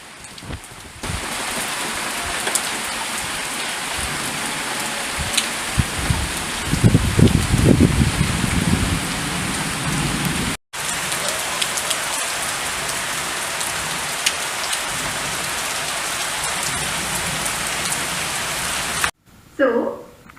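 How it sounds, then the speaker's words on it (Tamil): Heavy rain pours steadily outside on a windy evening, a dense even hiss of drops on surfaces, with a low rumble swelling briefly in the middle. "இந்த அழகான மாலை பொழுது எங்கள் ஊரில் காற்றும் மழையும் செம்மையாக அசத்திருச்சுங்க"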